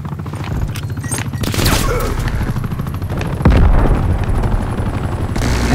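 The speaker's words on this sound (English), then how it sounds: "Citrep, enemy attack helicopter above." Enemy attack helicopter in the video game Black Ops Cold War, a steady low rotor rumble under bursts of gunfire and a loud boom partway through, heard in a noisy battle scene.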